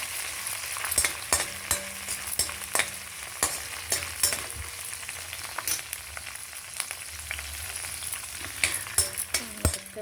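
Coriander seeds, garlic and green chillies fry in hot oil for ponnaganti leaf chutney, giving a steady close crackling sizzle broken by repeated scraping stirs.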